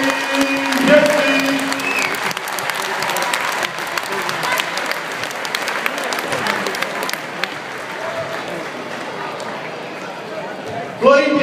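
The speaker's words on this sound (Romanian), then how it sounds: "Aplauze încă o dată pentru maestrul Florin" A crowd at an All-Star basketball game in Cluj-Napoca applauds a maestro named Florin Pietri, the clapping a loud, dense, continuous wash that thins slightly toward the end, with voices mixed in.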